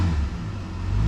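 A car pulling up nearby, heard as a steady low engine rumble with no break across a very short stretch.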